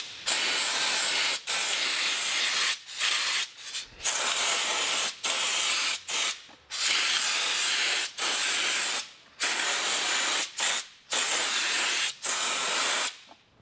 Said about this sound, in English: There's several places you can apply the armor seal.